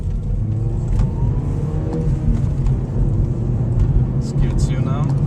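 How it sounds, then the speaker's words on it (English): A manual transmission car accelerating through its gears, with a steady, close engine rumble and drone that holds throughout while a person talks over it. "we're going to begin to accelerate throughout all the gears of the shifter"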